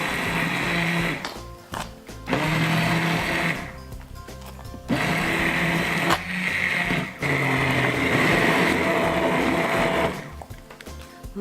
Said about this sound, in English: I like to use an immersion blender.